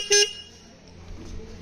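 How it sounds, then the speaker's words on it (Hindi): A short, thin scooter-type horn fitted to a Royal Enfield Standard 350 motorcycle gives one brief high-pitched beep, followed by low engine idle rumble. "छोटी वाला हॉर्न है"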